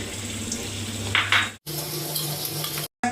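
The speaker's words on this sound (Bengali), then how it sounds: "তো এবার আমি আলুর খোসাগুলোকে তেলে ছেড়ে দিচ্ছি।" Potato peels dropped into hot oil in a wok, giving a steady bubbling sizzle with a couple of brief louder crackles and two sudden cuts to silence.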